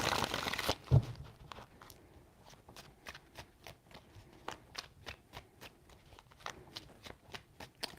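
Tarot cards being shuffled by hand during a card reading: a loud riffle at the start, then a long run of quiet, regular crisp card taps and slides, close and alone with no talk.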